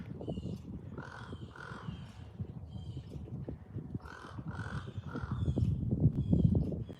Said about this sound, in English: This might be a raven.